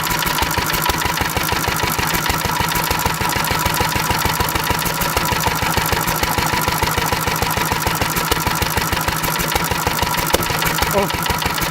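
Small engine running on pure SeaFoam instead of gasoline, idling roughly with a steady uneven chug and frequent misfires, loud and close, with no talk over it.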